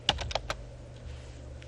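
A short burst of keystrokes on a computer keyboard, four sharp clicks in quick succession up close, then only a low steady hum.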